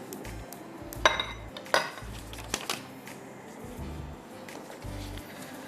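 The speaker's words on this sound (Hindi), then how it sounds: "चूल्हे पे हल्का हल्का इसको चलाते हैं। फ्लेक्ड बादाम है ये।" Flaked almonds being stirred as they toast in a pan on a stovetop, light scraping with a few sharp metallic clinks against the pan, quiet and close, with no talking.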